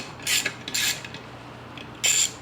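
Hand tools work on the muffler of a Stihl 025 chainsaw during a rebuild, giving three short metallic ratcheting bursts close by, separated by quiet gaps.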